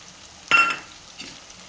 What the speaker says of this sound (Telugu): ఇప్పుడు టమాటాలు మగ్గింటాయండి.